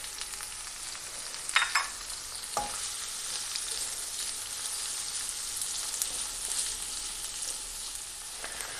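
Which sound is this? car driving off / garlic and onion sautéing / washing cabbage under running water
garlic and onion sautéing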